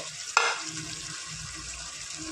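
Mutton curry frying in a pan gives a steady crackling sizzle close by, with one sharp clatter as something is added and faint stirring beneath.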